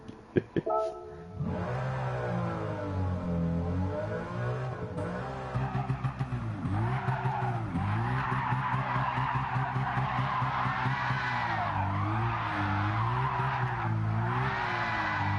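A Toyota 2JZ-engined race car making 777 horsepower in Gran Turismo 7, its engine revving up and down in repeated sweeping pulls through gear changes, with tire skids, steady and fairly quiet throughout.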